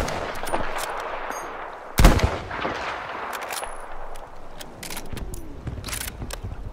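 A German Kar98k bolt-action rifle fires in a video game as a burst of sharp shots, with one loud close crack standing out among scattered distant gunfire and mechanical clicks.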